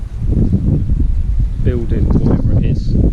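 Strong wind buffeting a microphone outdoors in a garden by a koi pond, a continuous loud low roar throughout, with someone talking over it.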